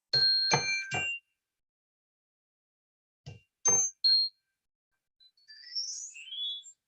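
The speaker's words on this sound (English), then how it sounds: "I've also got a little chime thing." A small meditation chime used for a sound bath is struck several times, giving bright, ringing metallic tones in short separated strikes with silent gaps, followed by a softer shimmering tinkle near the end.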